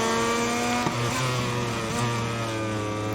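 Motorcycle engine from a KTM in the MotoGP 22 racing game revs hard and steadily, a loud near buzzing drone with shifting pitch through the whole stretch, no talking over it.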